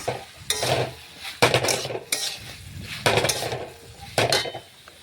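Mixed vegetables stirred and sautéed with spices in a pan, with a spatula scraping and clattering in several distinct bursts over a soft background sizzle, close and fairly loud.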